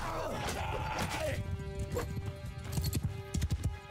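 Rhythmic clip-clop of horse hooves in Mount & Blade II: Bannerlord amid a busy game soundscape with music and distant crowd noise, steady and moderately loud.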